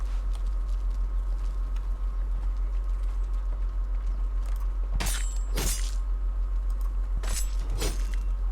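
Horse hooves clip-clop a few times in Conan Exiles, two short pairs of steps over a steady hum of background game ambience, with no talking.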